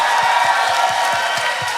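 A worship congregation at a live church service roars and cheers in a dense, sustained wash of crowd noise, with soft rhythmic low thumps pulsing underneath.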